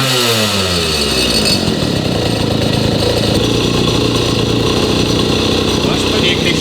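A 1953 Itom Astor Sport two-stroke motorcycle engine runs loud and close, a continuous raspy buzzing rattle with rising revs at the start, holding steady throughout.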